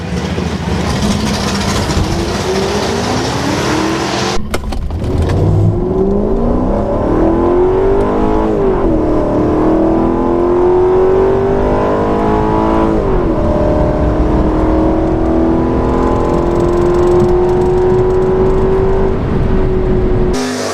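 A modified Mercedes E55 AMG launching down a quarter-mile drag strip, its engine roaring loud and close as revs climb through several rising gear pulls with brief dips at each shift, continuous for about twenty seconds.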